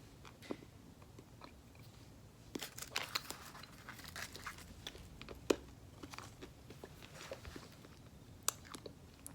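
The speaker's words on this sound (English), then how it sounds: "Let's see what this banana candy tastes like." Close, quiet crunching and chewing of a banana-flavoured, heart-shaped hard candy, with irregular sharp cracks and softer mouth sounds continuing throughout and no talking.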